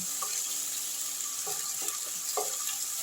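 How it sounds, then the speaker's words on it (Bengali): Ground spice paste with cumin and cinnamon fries with onions in a pan for a fish curry, a steady close sizzle with a few soft stirring knocks and no talking. "মশলাটা কিছুক্ষণ কষে নিচ্ছি"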